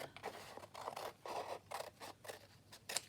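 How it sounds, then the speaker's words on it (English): Scissors cutting along a folded sheet of paper while making valentine journal tags, a run of crisp, close snipping and slicing strokes in quick uneven rhythm, with no talking. "spread it out a little bit and cut along this fold"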